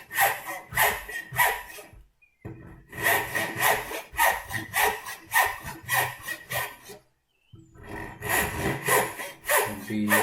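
A handsaw cuts a wooden tenon for a picture frame in steady back-and-forth rasping strokes, close and loud, in three bursts separated by short pauses.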